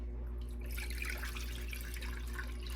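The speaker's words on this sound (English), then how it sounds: "we're gonna take that over and pour it into the pot." Filtered water is poured from a container into a cooking pot for pickling cherry tomatoes, a soft, steady splashing trickle over a low constant kitchen hum, with no voices.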